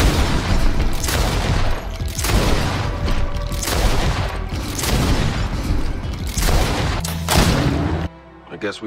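Gunfire in the video game Greedfall, loud dense bursts of shots and booming blasts in rapid succession for about eight seconds before cutting off, with faint voices underneath.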